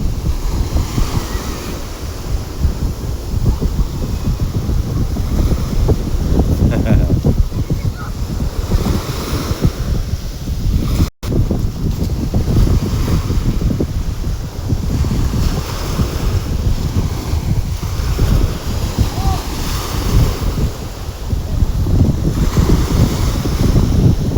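On an island beach, sea waves wash over pebbles and sand at the shoreline in a loud, continuous surf roar, with heavy wind buffeting the microphone throughout.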